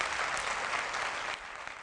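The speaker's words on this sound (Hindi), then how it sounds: "हेलो, ताली नहीं बजाई महिला के लिए आपने?" Applause from an audience at a network marketing training session: a brief, steady wash of clapping, moderately distant and fairly quiet, dropping slightly near the end.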